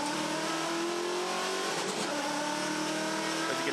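V8 Ute race cars roar around the Townsville circuit during a race, a dense, loud wall of engines at high revs, steady throughout with a brief swell of cars passing near the middle.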